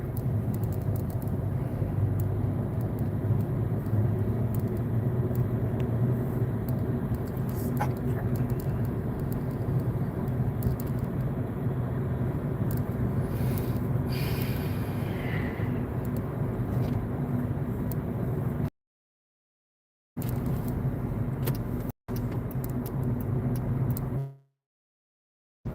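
Heavy trucks rumble past outdoors in a continuous, loud low roar that holds steady for a long stretch, with the sound dropping out briefly near the end.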